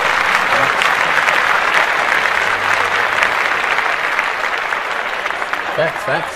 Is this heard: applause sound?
yes